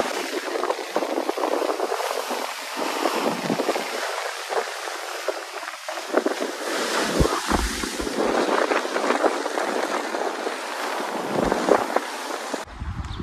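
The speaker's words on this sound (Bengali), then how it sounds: "দূরের সমুদ্রের ডাক নিশ্চয়ই আপনারা শুনতে পাচ্ছেন" Steady wind sweeps across open ground on Mousuni Island, with a faint roar of sea waves far off underneath. The rushing and buffeting stays continuous, with no voices.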